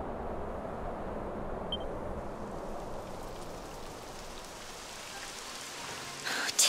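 Steady rain falls in the video game Dragon Quest XI S, a continuous broadband wash of drizzle that holds evenly throughout, with a brief brighter burst near the end.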